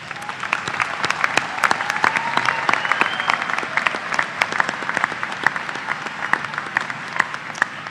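Crowd at a Washburn University School of Business and School of Nursing commencement applauding master's students, a sustained wash of many hands clapping in a large hall, even and moderately loud.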